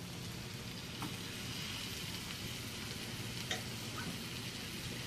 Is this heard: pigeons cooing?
no